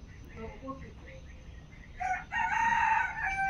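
A rooster crows loudly in the second half, a sustained call rising from a quieter yard where ducks and chickens are kept, with low background murmur beforehand.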